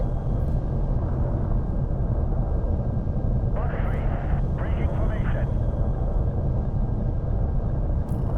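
Spaceship in the game Elite Dangerous descending to land with landing gear deployed, a steady loud engine rumble and roar throughout, with a brief mechanical whirring burst midway.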